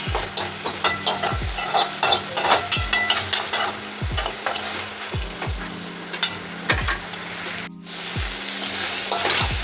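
Thuthuvalai leaves fry in a pan, a loud continuous sizzle broken by frequent scraping strokes of a spoon as they are stirred, with a brief drop near the end.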